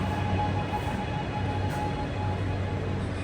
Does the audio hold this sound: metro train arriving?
yes